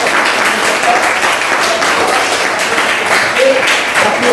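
Loud, dense applause from a class of students for a group that has just presented, sustained without a break and with faint voices mixed into the clapping.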